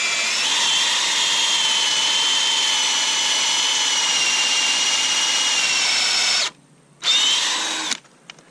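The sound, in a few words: power drill boring tap hole into maple tree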